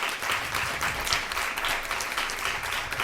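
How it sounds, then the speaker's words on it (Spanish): Audience applause at a round-table forum on women, talent and leadership, a steady, even burst of many hands clapping filling the whole moment. "mandar un aplauso totalmente a las mujeres ucranianas"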